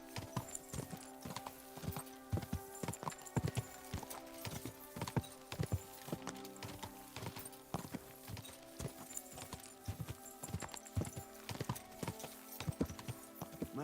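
A horse's hooves clip-clop at a steady walking rhythm in the medieval video game Kingdom Come Deliverance 2, close and fairly quiet, with faint ambient background and no talking.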